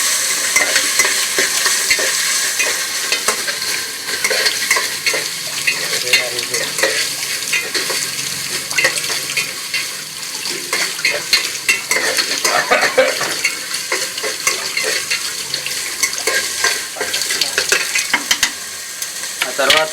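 Ginger garlic paste mixture is stirred in a hot frying pan for a bachelor-style pulao, with a constant loud sizzle and brisk, repeated scraping of a utensil against the metal pan.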